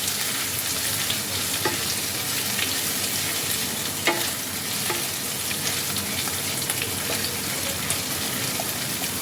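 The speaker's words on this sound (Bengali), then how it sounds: "আদাটা দিয়ে তেলের মধ্যে আবারও খানিকক্ষণ সাঁতলে নেব" Ginger sautés in hot oil for a Bengali doi potol dish, making a constant close sizzle with light stirring scrapes and occasional soft pops, with no voices over it.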